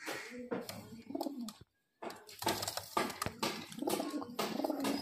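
Murshidabadi Giribaz pigeons being let out coo and flutter in close, busy bursts, broken by one brief moment of silence before the cooing and wing noise resume.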